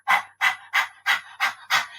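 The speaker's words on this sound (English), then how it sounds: "Give me all the panting you can." Six quick, loud, even pants pushed out in a steady rhythm by people breathing like a dog during a singing breath exercise, with nothing else heard.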